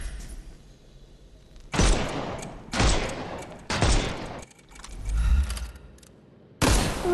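Gunfire in the Sherlock Holmes Chapter One video game, used to shoot armour off enemies: four loud, sharp bursts of rapid shots separated by short pauses, with quieter game sounds between.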